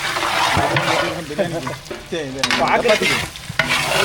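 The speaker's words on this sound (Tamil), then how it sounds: "மட்டனை சேர்த்தாச்சு மசாலா கூட நல்லா கலந்து விட்டுக்கலாம்" Mutton and masala are stirred and fried in a pan for biryani, loud sizzling broken by scraping spoon strokes against the pan, with a voice talking over the cooking.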